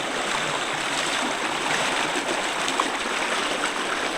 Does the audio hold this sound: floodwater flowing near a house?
yes